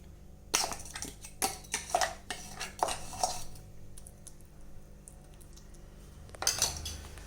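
Spoon scraping and clinking against a bowl while coarse peanut chutney is transferred, a burst of rapid metallic clinks and scrapes, then a pause, then a final clatter, close and with no talking.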